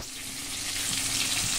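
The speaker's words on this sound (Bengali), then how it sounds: "এই যে 3 পিস মাছ আমি ভাজা করতে বসিয়ে দিয়েছি। নুন হলুদ মাখানো মাছ।" Three pieces of fish, one head and two tails rubbed with salt and turmeric, sizzle in hot oil with a continuous bright crackle that swells slightly as it goes, heard up close without any voices.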